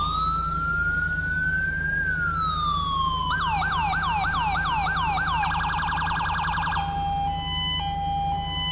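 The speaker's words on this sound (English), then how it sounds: "We've got a new modern-sounding siren." Modern police siren from the GTA V LSPDFR mod: a loud, continuous electronic wail that climbs and falls, then switches to rapid repeating yelps and finally a fast, high stepped pulse.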